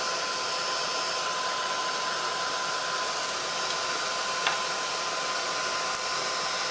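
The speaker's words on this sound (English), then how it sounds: "This is just the Ranger Distress tool. Heat tool." A Ranger heat tool blows steadily for heat embossing, making a constant airy whir with a faint tick or two.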